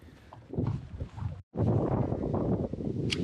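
Steady wind roars and buffets a microphone outdoors among cypress trees, with a brief dropout midway before the gusting noise returns even stronger.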